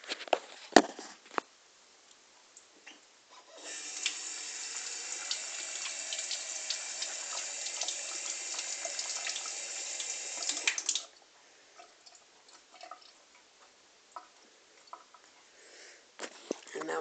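Tap water runs steadily into a sink for about seven seconds while mushrooms are rinsed as food for African land snails, with quieter handling noises before and after.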